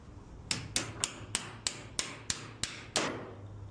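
A small hammer taps nine times in an even rhythm during window hinge replacement, each strike sharp and close, with the last one slightly heavier. No talking.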